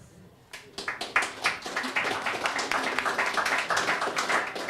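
A live poetry-reading audience at Seersucker Live breaks into steady applause, many hands clapping densely and evenly throughout after a brief quiet start.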